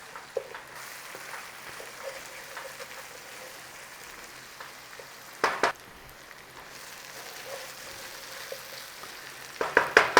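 Garlic and ginger paste frying gently in oil and a little water for a home curry, a soft steady sizzle with a couple of louder scraping stirs partway through and at the end.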